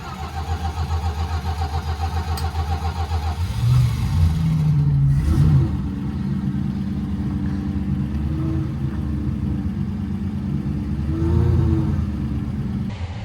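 A 1967 Plymouth Barracuda engine with a freshly rebuilt Carter BBD carburetor runs loud and close after sitting for twenty years, idling roughly, rising in a couple of revs and then settling back to a steady idle.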